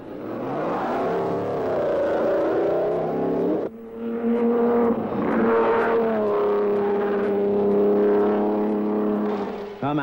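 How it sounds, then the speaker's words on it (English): Mercedes racing cars at the 1938 French Grand Prix roar past with loud, droning engine notes, pitch sliding as one car passes and another follows, on an old, somewhat muffled recording. "Hermann Lung drives a perfectly judged race, leading the other Mercedes by 5 minutes"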